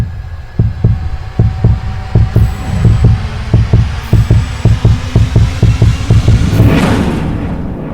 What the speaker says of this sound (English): But guys, listen to my heartbeat.